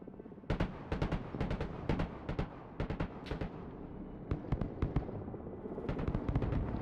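Artillery fire in the video game Broken Arrow: a string of sharp, booming impacts in irregular clusters, some landing close together, over a low rumbling battlefield bed with no talk.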